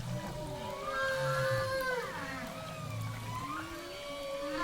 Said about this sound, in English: Then I took them off the coast of Hawaii and recorded humpback whales.